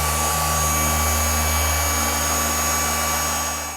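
A cordless car polisher motor runs with a steady, high whine and a rich hum, close by and constant, easing slightly at the very end.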